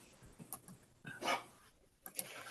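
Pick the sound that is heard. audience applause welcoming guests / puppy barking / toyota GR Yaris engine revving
puppy barking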